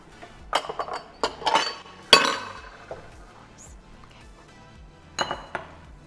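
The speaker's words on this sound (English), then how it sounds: "So we're going to combine the egg yolks, like that, with a whisk." A whisk combines egg yolks, sugar and corn flour in a small bowl, giving irregular sharp clinks and taps against the bowl, some loud, with quieter gaps between and no voices.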